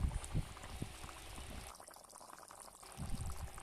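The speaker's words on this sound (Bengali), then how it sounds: "আর একটু ঝোলটাকে ফুটিয়ে নিলেই আমার রান্নাটা কমপ্লিট।" Rohu fish and bottle gourd curry broth simmering in a pot, a low bubbling and sputtering liquid sound with louder bursts at the start and end and a quieter stretch in the middle, heard alone without talk.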